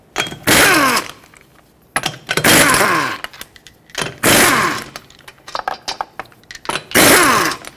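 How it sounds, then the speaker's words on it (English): Four loud, sharp bursts from a power tool driving a 21mm socket as lug nuts come off the wheel of a 2006-2010 Hyundai Sonata, with brief quieter gaps between bursts; no one speaks. "Use a 21mm socket, remove all 5 lug nuts, and then pull the wheel off."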